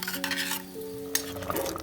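Beaten yogurt curry thickening on the stove for an Onam sadhya, stirred in a pot: soft scraping and bubbling with a few clinks of the spoon, close and fairly quiet, over a faint steady hum.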